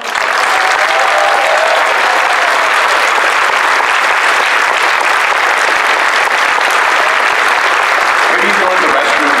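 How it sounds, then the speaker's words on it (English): A large convention audience applauds at a closing ceremony, a dense, loud, sustained roar of clapping with scattered cheers running the whole time. "please, again, just a round of applause for Thumper for all of it"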